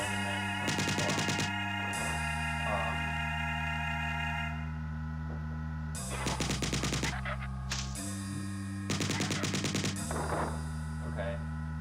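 Rapid bursts of alien weapon fire in the game Marathon, three loud stuttering volleys with sharp metallic whine, separated by short gaps over a steady droning hum.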